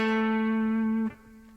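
An electric guitar plays a beginner improvisation lick that opens with a string bend and steps down the scale: one long, sustained note, then a quieter note near the end. The instrument plays alone and close.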